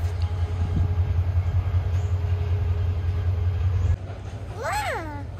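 A train rolls past nearby with a loud, steady low rumble of wheels and carriages that drops off abruptly near the end, followed by a short rising and falling voice or call.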